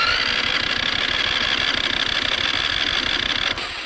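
An old, long-unused gasoline generator engine sputters and runs roughly, a loud, steady, throbbing rumble with a rapid pulsing beat that dips slightly near the end.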